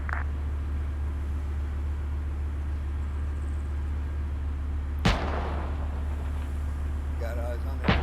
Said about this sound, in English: you are clear to fire at will until your enemy tank is destroyed